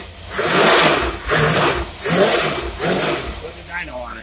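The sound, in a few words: car engine revving with original AFB carburetor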